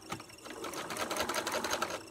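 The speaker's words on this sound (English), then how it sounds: "I don't want to push the seam aside with the presser foot when I go to sew it" A sewing machine stitches a seam over bulky fabric, its needle chattering in a fast, even rhythm, close and steady for the whole stretch.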